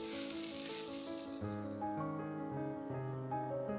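Shredded potatoes frying in a pan give a steady, close sizzle that is strongest at the start, with melodic music playing along underneath.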